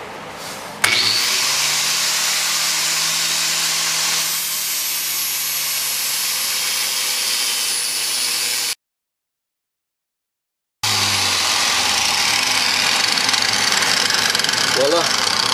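An angle grinder fitted with a sanding disc works a piece of wood, giving a loud, steady motor whine with abrasive grinding that runs continuously, breaks off briefly and then resumes.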